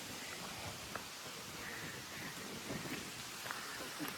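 Steady rain falls outside near a rice mill, a soft, even hiss with scattered faint drop taps throughout, quiet and continuous with no voices.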